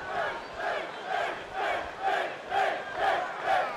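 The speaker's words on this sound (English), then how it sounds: "Certainly a section of the crowd here on the side of Finn Balor, cheering for him early on" Arena crowd in the WWE 2K19 wrestling game cheering during a Finn Balor versus Kazuchika Okada championship match, a steady roar swelling in rhythmic waves roughly every half second, with no talk over it.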